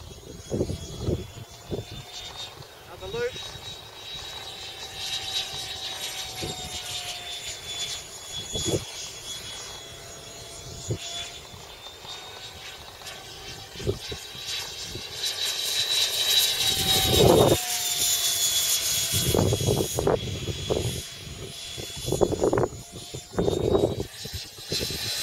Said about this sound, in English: No way this plane isn't faster, Danny.